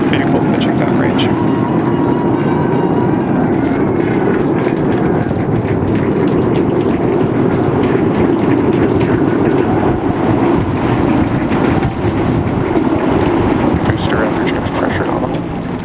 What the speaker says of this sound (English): We got liftoff.